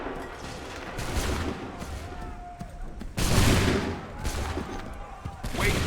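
Musket volleys from Assassin's Creed 3 thunder in several heavy rolling bursts over a steady battlefield din. Shouted commands and voices run beneath the booms.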